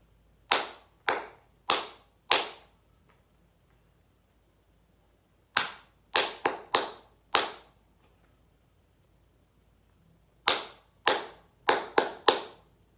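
Three groups of crisp, close hand claps separated by pauses, each group a short rhythmic pattern of four or five claps, played for a copy-the-rhythm game in a children's music lesson, with no talking.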